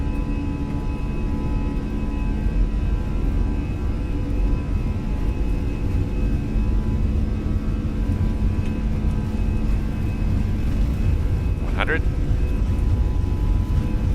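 Simulated Airbus A320 engines spooling at takeoff thrust on a departure from JFK in a flight simulator: a steady, loud, broadband roar that holds constant throughout, with a voice heard over it.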